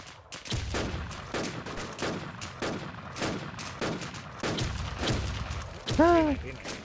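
Rapid bursts of gunfire in a video game, shots hammering against an enemy shield in a steady repeating rhythm, loud and close, with a rising electronic chirp near the end and a voice talking over it.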